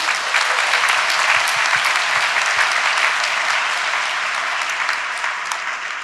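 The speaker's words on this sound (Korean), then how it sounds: "교수님을 뜨거운 박수로 맞아주세요." A crowd at Ewha Womans University's 140th anniversary ceremony applauds warmly, a sustained, even wash of clapping that fades slightly toward the end.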